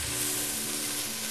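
Lamb for a stew browning in a pot, a dense, steady hiss of sizzling fat, close and continuous with no talking.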